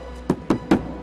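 Three quick, evenly spaced knocks on a door, close and sharp against a quiet background.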